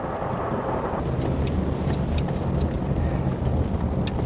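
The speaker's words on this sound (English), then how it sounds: "And there's the loudest thing on the car. The ticking of the indicator." The turn indicator of a 1969 Rolls-Royce Mulliner Park Ward coupe ticks in a regular series of sharp, light clicks, heard over a constant rumble of road and wind noise.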